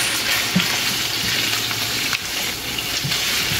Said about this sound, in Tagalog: Mag-olive oil. Gisayin natin ng bahagya ang ibang sibuyas.